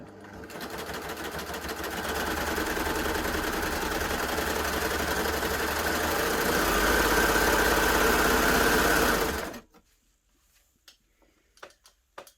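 A Baby Lock Gloria combination machine stitches a triple cover stitch, its motor and needles whirring in a fast, even hum that speeds up slightly before stopping abruptly, followed by a few soft clicks and taps.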